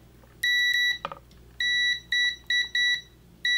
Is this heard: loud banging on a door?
no